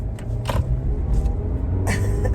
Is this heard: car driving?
yes